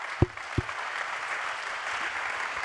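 An audience at an official launch session applauds as a participant returns to their seat; steady mid-level clapping runs throughout, with two low thumps near the start.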